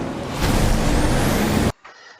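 Turbocharged 2-liter four-cylinder engine of a Ford Bronco in the Forza Horizon 5 video game, with a loud, steady rising spool and a faint high whistle. It cuts off abruptly near the end, leaving only a quiet tail.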